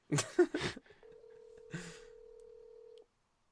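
A phone call on speakerphone plays a few quick dialing tones and then a single steady ringback tone that holds for about two seconds before cutting off, clear and close, with no talking.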